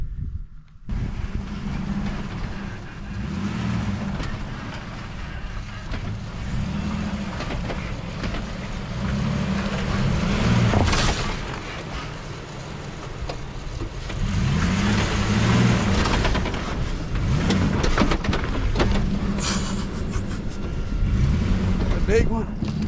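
An off-road vehicle crawls up a rocky slope past an old fence line, its engine droning steadily for the whole stretch with jolts, bumps and rattles from the rough climb and some wind buffeting the microphone.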